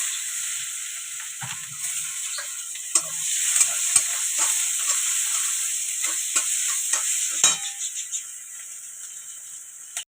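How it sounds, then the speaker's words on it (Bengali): Nigella seeds and onion frying in hot oil left over from frying fish, for a fish curry with cauliflower and potato: a loud, continuous close sizzle with scattered crackles and spatters, no voices. "এবার দেখো তেলটা গরমই আছে, মাছটা ভেজে যেহেতু তুলে নিয়েছি, দিয়ে দিলাম কালো জিরে, পেঁয়াজ"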